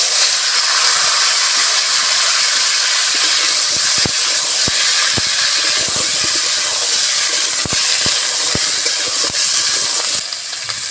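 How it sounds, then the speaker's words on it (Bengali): Cucumber and tomato frying in hot oil with five-spice seeds in a wok, a loud constant hiss of sizzling close up with scattered sharp crackles and pops throughout. "তরকারি রান্নার জন্য কড়াইতে তেল দিয়ে দেব। দিয়ে দেব 5 ফোড়ন, শসা আর টমেটো দিয়ে দেব।"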